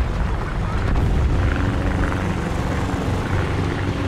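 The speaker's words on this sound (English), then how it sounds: "Another plane coming in." Aircraft engine drone in a War Thunder ground realistic battle, a plane approaching as a steady, loud, broad roar with rumbling low end that holds for several seconds.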